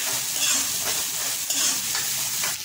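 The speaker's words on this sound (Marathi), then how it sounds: "आपल्याला 5 ते 7 मिनटं असं परतून घ्यायचं आहे मिरची कांदा आणि आलं लसूण पेस्ट" Chili, onion, ginger-garlic paste and curry leaves sauté in a pan for methi and toor dana usal, giving a steady close sizzle with scraping stirs throughout and no talking.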